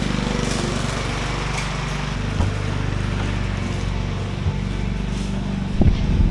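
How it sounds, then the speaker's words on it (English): A lawn mower engine drones steadily and loudly close by throughout while someone mows a lawn, with a few faint knocks and clicks near the end. "And this guy mowing the lawn."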